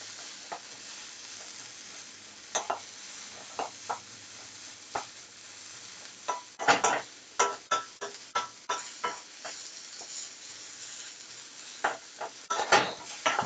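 Onions frying and being stirred in a pan over high heat, with a steady sizzle and repeated scraping, clattering stirs that grow busier partway through, close and alone without voices.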